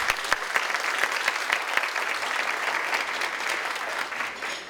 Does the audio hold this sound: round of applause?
yes